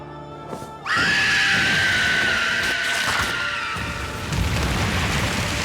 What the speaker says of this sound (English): That has to be some sort of sound sample. That scream.